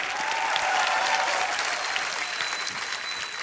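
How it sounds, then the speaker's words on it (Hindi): A studio audience claps loudly for the players on a comedy talk show, a dense, steady burst of applause that holds throughout and tapers a little toward the end. "बहुत जोरदार तालियां हमारे सारे प्लेयर्स"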